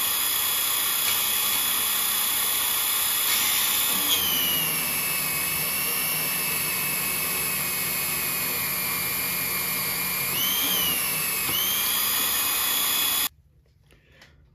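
A power drill bores a hole in a small shaft held in a vise in a home workshop, made for a tiny mayonnaise-jar steam engine. The drill gives a loud, steady motor whine with slight changes in pitch and stops suddenly near the end.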